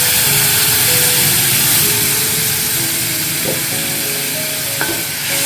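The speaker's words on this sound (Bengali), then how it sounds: "সব কিছুকে খুব ভালোভাবে আমি কষিয়ে নিচ্ছি" Spices with coriander powder sauté in a pan with a splash of water, making a loud, continuous close sizzle with occasional stirring scrapes.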